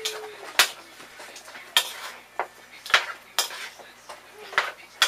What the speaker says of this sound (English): Combine, stirring it up.